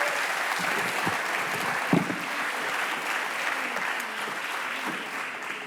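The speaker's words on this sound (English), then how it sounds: "if we wouldn't mind giving one more round of applause for Governor Brown and his leadership" Audience applause for Governor Brown at a climate agreement signing ceremony: steady, dense clapping from a large crowd, sustained at even loudness for several seconds with no talking.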